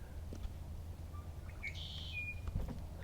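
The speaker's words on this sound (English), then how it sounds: "Is that a grackle? Or is that a red-winged blackbird?" A single bird calls a few times with short chirps and a rising squeaky whistle, fairly faint over quiet outdoor background noise.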